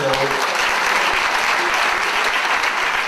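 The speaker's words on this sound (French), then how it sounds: "on peut l'applaudir M. Azero." Sustained applause from a crowd at a political rally in Bordeaux, dense clapping throughout at steady loudness, with a brief hint of voices at the start.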